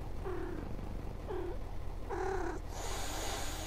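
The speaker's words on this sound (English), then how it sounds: "Why are you hissing at me?" A cat on a night bus in Night Bus, voicing a string of harsh, strained cries over a constant low engine rumble, ending in a breathy hiss-like burst; no talking.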